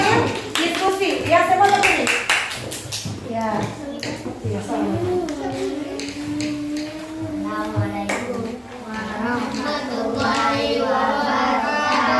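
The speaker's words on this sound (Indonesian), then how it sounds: "tepuk tangan dulu untuk kelompok 2 memberikan aplaus dulu untuk kelompok 2" A classroom applauds a student group after its presentation, with a burst of many hands clapping over the first few seconds before voices take over and talk continues to the end.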